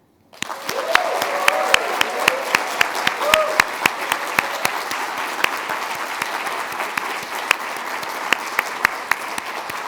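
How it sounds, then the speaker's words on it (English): A large crowd at a celebration event applauds steadily for about nine seconds, dense clapping with a few sharper individual claps standing out, starting abruptly after a brief silence. "Please join me in a round of applause for Kathy, Lorraine, Tiffany, Casey, Lo, Sha"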